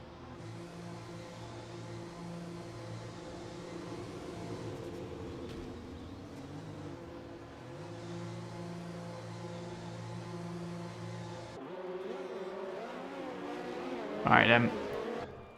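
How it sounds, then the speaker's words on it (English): Race cars from a racing video game roll out onto the track, steady engine drones holding under a commentator's voice, with a sharp squeal or burst near the end. "Cars making their way out on track now."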